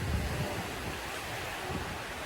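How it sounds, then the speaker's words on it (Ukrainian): Sea waves washing onto a wide sandy beach with a gently sloping entry on Crete, a steady broadband surf wash with a slightly louder swell at the start, with no talking. "Пляж з пологим, піщаним заходом у море, що дуже зручно з дітьми."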